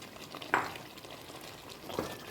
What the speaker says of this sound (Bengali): আমি মাঝে মাঝে একটু স্টার করছি